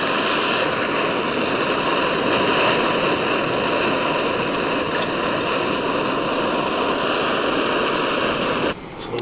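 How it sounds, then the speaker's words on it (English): Water boils in a pot on a camp stove outdoors on a hiking trail, giving a steady, close roaring hiss that runs evenly without a break and stops abruptly near the end. "So the water is boiling."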